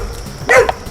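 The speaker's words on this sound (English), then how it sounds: "look at this dog" An emaciated, thin dog lets out one sharp bark close by, loud and abrupt against quiet surroundings.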